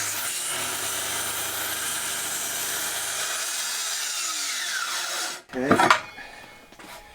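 A power saw runs steadily through a wooden rafter for about five seconds, its whine bending downward as the cut slows, then stops abruptly, followed by a brief clatter of handling and a short spoken word.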